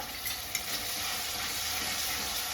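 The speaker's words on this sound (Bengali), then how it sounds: "এবার আমি আদা রসুন বাটাটা দিয়ে দেবো।" Ginger garlic paste fries with onions in a home kitchen pan, giving a steady, moderately quiet sizzle with a faint knock near the start.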